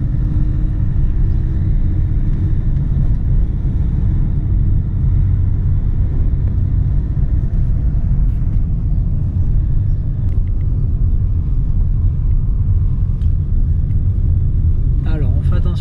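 Steady low car engine rumble from inside a vehicle during a practice driving test, the clutch being let out as the car pulls along, constant and loud with faint speech underneath.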